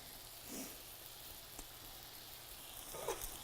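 Chicken patties fry quietly in a pan with a soft, continuous sizzle and a few faint spatters, heard alone at low volume.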